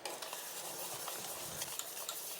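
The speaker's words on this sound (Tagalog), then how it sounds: "Ilagay naman natin yung minash nating saging. Paghaluin," Mashed bananas stirred into banana bread batter in a bowl, a quiet, steady wet scraping and squishing with small clinks from the utensil, heard alone.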